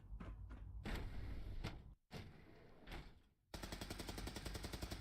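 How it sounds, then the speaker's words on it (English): Gunfire in Fallout 4 comes as a rapid series of sharp, loud cracks, with brief gaps between bursts and a dense stuttering run of shots near the end. No voices can be heard. "I hear gunshots."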